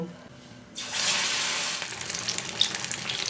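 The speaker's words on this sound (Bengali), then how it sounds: "এবার একটা একটা করে কিন্তু তেলের মধ্যে ছেড়ে দেব" A sudden loud sizzle bursts out as puffed-rice cutlets hit hot oil, then settles into a steady crackling fry with small pops.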